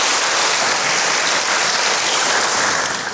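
A congregation applauding during a church sermon, a dense, loud, continuous wash of many hands clapping together with no talk over it.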